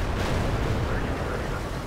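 An IS-3 heavy tank fires its cannon in World of Tanks, a dense, loud booming blast that rolls out across the whole short moment.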